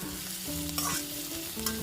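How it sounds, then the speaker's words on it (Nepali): Mixed vegetables for street-style veg chowmein sizzle and fry in a pan while being stirred, a continuous close crackle with scraping stir strokes and no talking. "यसलाई चाहिँ म मजाले पाक्ने गरेर नै भुट्दैछु"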